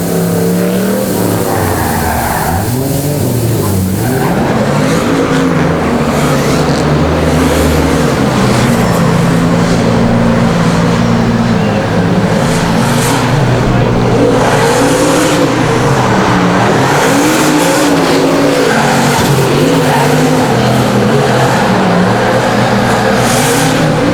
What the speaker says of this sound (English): Listen to 900 horsepower sing.